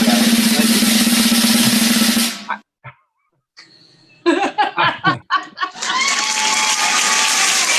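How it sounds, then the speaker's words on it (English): Comedy show audience breaking into loud applause and cheering, cutting off abruptly, followed by brief scattered laughter and a few voices before the clapping and cheering swell back up. "The crowd's out of control."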